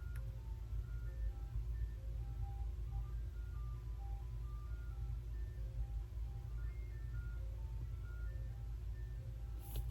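Ice cream truck playing its tinkling jingle melody at a distance, faint and repeating over a low steady rumble, with no voices.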